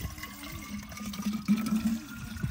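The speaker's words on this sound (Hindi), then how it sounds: "नीचे से आ रहा है पानी?" Water flows from below through a rural field channel, a faint continuous gurgle and trickle with louder bubbling bursts, heard close and alone without talk.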